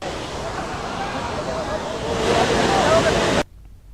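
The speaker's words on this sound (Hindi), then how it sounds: "यहाँ पर नदी नाले उफान पर हैं" Flooded rivers and drains in Rajasthan during heavy rain, giving a loud, steady roar of rushing water that swells near the end and then cuts off abruptly.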